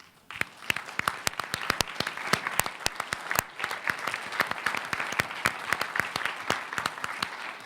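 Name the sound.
audience applauding parents of award-winning students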